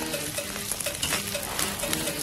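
Fried rice with fermented black beans is stir-fried on an iron griddle at a street-side stall, giving a loud, continuous sizzle with quick, rhythmic spatula scrapes.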